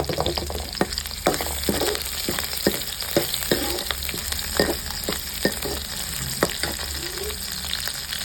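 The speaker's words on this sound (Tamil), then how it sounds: "ஒரு 5 நிமிஷம் அந்த வெங்காயம் வதங்கி வரட்டும்" Onion, green chili and curry leaves fry loudly in a pan, with a constant sizzle broken by frequent sharp clicks and scrapes of a spoon stirring. No one speaks.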